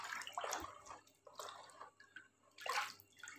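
A molasses and rice washing water mixture stirred by hand in a container, giving soft, close sloshing and dripping swirls in three uneven bursts.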